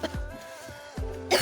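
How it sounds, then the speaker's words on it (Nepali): A person coughs twice in quick succession, close and fairly loud, with a short raspy throat sound between the bursts and no talking. "खोक्दै उक्र्दै"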